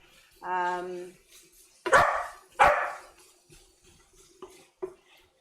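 A dog barks in a home kitchen, giving a whine followed by two loud barks and then a few fainter yips, close to the listener with no other sound competing.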